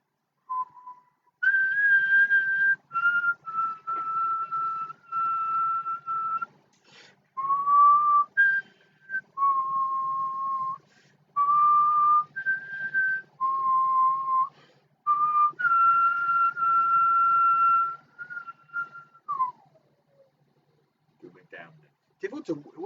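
Someone whistles a melodic tune in clear, sustained phrases separated by brief pauses, close and fairly loud in an otherwise quiet setting, ending with a short burst of other noise.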